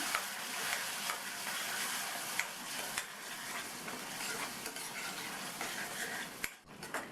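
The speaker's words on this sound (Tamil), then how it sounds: "மிக்ஸி ஜாரை கழுவி கொஞ்சமாக தண்ணி சேர்த்து நல்லா வதக்கிக்கலாம்." Continuous sizzling from a pan as kalan pattani (mushroom and pea) gravy masala is sautéed with a little water, with a spoon scraping and clinking against the metal now and then as it is stirred, close by.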